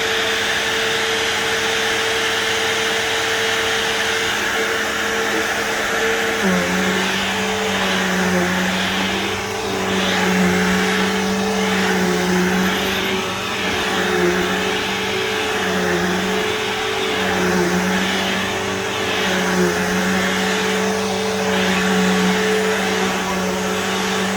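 A Bissell CleanView II 3574 upright vacuum cleaner runs with a steady, droning motor whine that dips slightly in pitch early on, then holds an even, continuous hum close by.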